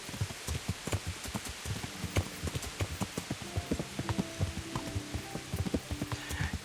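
A horse's hooves clip-clop at a steady walking rhythm in Kingdom Come: Deliverance, close and distinct over a soft rain-like background with faint music.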